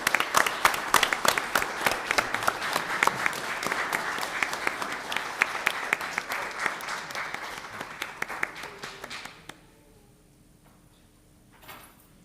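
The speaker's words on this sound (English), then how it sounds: "let's give these ladies a giant round of applause" An audience at a school board business meeting gives a hearty round of applause, with sharp individual claps standing out for about nine seconds. It stops abruptly into near silence, followed by a faint stir.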